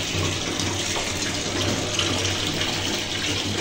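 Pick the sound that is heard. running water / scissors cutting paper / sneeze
running water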